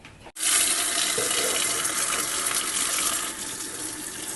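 Water runs steadily from a kitchen tap while lilac flowers are washed, a continuous close splashing rush into the sink that starts abruptly and holds at an even loudness.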